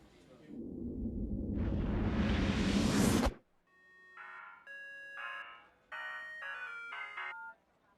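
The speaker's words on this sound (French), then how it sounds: "salut Raphaël, merci de me rappeler sur le portable." A mobile phone in a home scene rings with bright electronic tones in short repeated bursts, loud and close, following a loud whooshing noise that cuts off abruptly just before the ringing begins.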